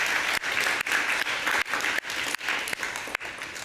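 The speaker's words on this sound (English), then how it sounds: "One more round of applause, please" Audience at an ad-filtering developer summit applauds in a large venue, steady dense clapping close and loud, broken by a few brief dips, with no talking over it.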